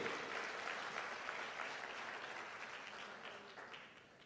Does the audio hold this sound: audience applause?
yes